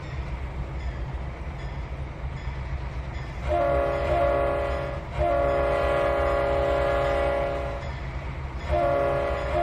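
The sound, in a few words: train passing in video game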